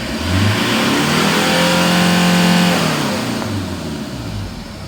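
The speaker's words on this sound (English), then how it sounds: "Sure you can hear the engine, sounds okay." A blue Hyundai Porter Super Cargo TCI truck engine revs up from idle to a sustained high pitch and then falls back, heard close and loud with no talking.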